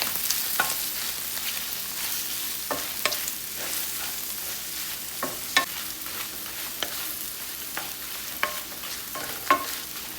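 Turmeric being stirred into paneer masala in a pan, giving a soft, continuous sizzle with scattered scraping strokes of a spoon, moderately quiet and close, without talk.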